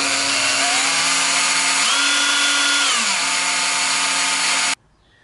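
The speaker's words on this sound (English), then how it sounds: "I wish I had a drill press, but I have to do this by hand. So also use the slow speed on your drill, and it'll go in." A hand-held power drill runs at slow speed boring holes into a soft copper bus bar, a steady loud whine that shifts pitch midway and then cuts off abruptly near the end.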